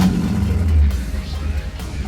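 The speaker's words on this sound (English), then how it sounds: "what a cool old American muscle car sounds like" A 1971 AMX American muscle car engine rumbles steadily nearby, a deep low idle that swells slightly before easing off.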